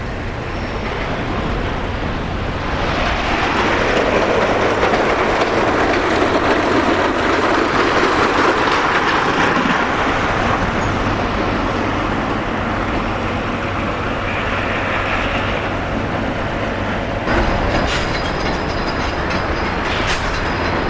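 The wooden Cyclone roller coaster from 1927 rumbles and clatters along its track, a loud steady rattle of cars on rails that swells after a few seconds and keeps going with a brief knocking change near the end.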